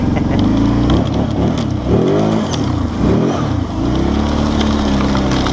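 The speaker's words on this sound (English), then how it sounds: "Oh man, listen to that gravel." Kawasaki Brute Force 750 ATV churning through sticky Idaho clay mud and gravel, its engine revving loudly and continuously up and down in close, steady surges.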